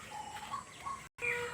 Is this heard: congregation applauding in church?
no